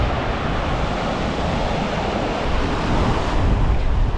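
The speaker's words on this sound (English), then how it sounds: "So I hope you can hear me over the noise of the waves." Waves surge onto a Scottish beach at Leven at high tide between storms, a steady loud roar of surf mixed with wind buffeting the microphone, with no break and no voices.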